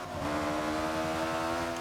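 An Ariel Atom V8 500's engine in Forza 5 hums loud and steady at high revs, its pitch climbing slightly over about two seconds, with no voices.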